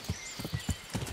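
Horse hooves clip-clop in Kingdom Come: Deliverance as the horse moves through bushes, four or five distinct thudding hoofbeats in a loose rhythm, close and clear.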